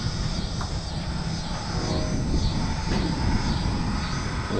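Continental 200 aircraft engine on an Avid Flyer, fitted with a custom exhaust system, runs at a steady, loud drone throughout, close by and with no talk over it.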